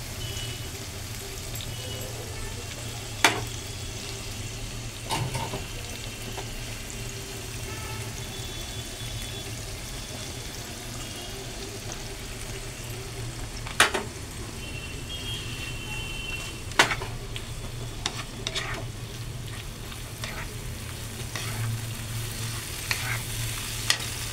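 Poured-in spices are stirred through ridge gourd cooked soft in its own water in a pan, a low steady frying bubble broken by occasional spoon knocks and scrapes against the metal, no voices.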